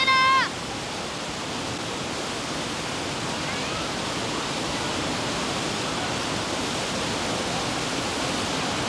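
A rushing waterfall roars in a broad, even, steady wash of water noise from start to end, with a brief higher tone at the very beginning and no talk.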